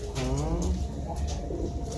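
Pigeons of a speckled brintik pattern coo steadily at close range, low rolling calls overlapping in a dense continuous murmur.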